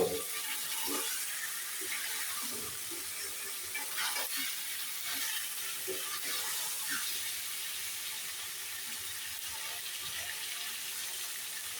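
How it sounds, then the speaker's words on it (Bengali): Chicken pieces sauté in a pan, giving a steady, moderate sizzle with occasional stirring scrapes and light clatter throughout. "এখন মাংসটা ভালোভাবে কষিয়ে নেব।"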